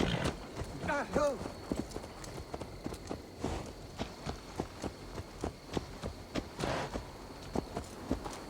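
Hooves of a horse thud in a steady walking rhythm in the Assassin's Creed Valhalla video game, close and moderately loud, following a short stretch of voices at the start.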